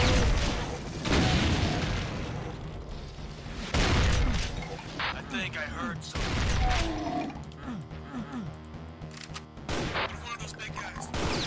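A grenade blows up in Brutal Doom, a deep booming blast among rapid game gunfire and crashes, loud and dense with repeated heavy impacts, while someone talks over the action.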